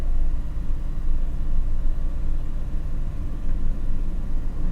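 A VW A4 engine, suffering intermittent stalling, held at part throttle, giving a steady mid-pitched drone with low rumble that stays constant and fairly loud, with no speech over it.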